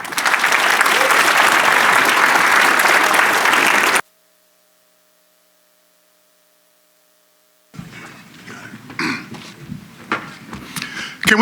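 An audience claps loudly and steadily at the 2022 Bravo! Awards, then the sound cuts to near silence with a faint hum before uneven room noise and scattered clapping return.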